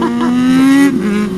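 An SRAD sports motorcycle engine revving close by, a rising steady whine that holds and then drops back briefly.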